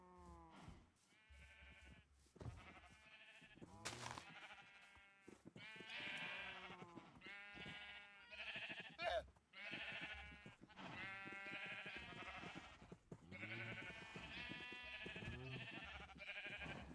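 Sheep in Minecraft bleat over and over, many overlapping calls in a busy, continuous chorus with no pauses, like a flock nearby.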